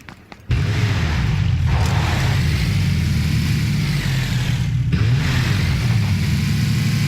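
A car engine in the battle royale game PUBG starts abruptly and runs steadily, a loud low drone with slight revs rising and falling throughout, heard alone.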